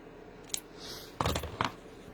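Paper for a handmade card cut with scissors: a light snip, then two firmer close crunching cuts in quick succession, no talk.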